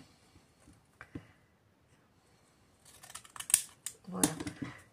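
Scissors cut through paper for a handmade birthday card: a few faint snips early, then a closer burst of crisp paper-cutting and rustling near the end, heard alone without speech.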